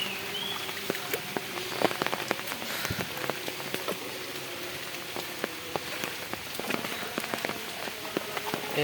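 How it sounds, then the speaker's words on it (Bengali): Heavy rain pours steadily in Sylhet, a dense continuous hiss of drops striking surfaces with scattered sharper splats, close and loud throughout without any talk. "এত বৃষ্টি দিয়েছে আজ।"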